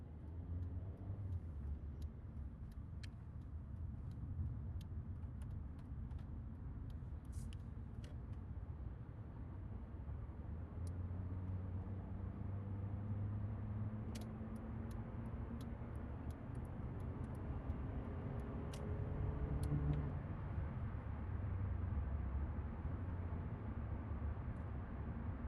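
A 2013 Hyundai i30 Active accelerates on the road from a 60 zone up to 80, its steady engine drone and tyre roar heard from inside the cabin, with smooth, gradual gear changes and faint ticking.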